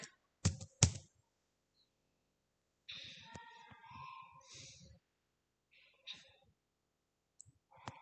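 Typing on a computer keyboard: a few sharp, close key clicks in quick succession, then a quiet voice speaking, with one or two more faint clicks afterward.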